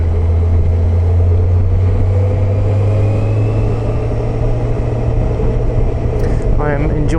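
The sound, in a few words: Honda CBF1000 motorcycle being ridden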